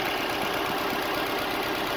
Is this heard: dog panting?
no